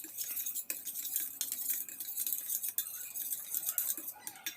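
A spoon scrapes and clinks against a bowl in quick, uneven strokes while a thick curry mixture is stirred, close and fairly quiet.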